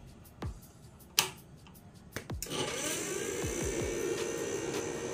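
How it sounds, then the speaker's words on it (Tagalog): Newbaxs RS4500 amplifier's noisy cooling fan spins up after a few clicks, settling into a steady, fairly loud whirring hum that runs continuously to the end with no talk. "parang napakaingay ng kanyang fan"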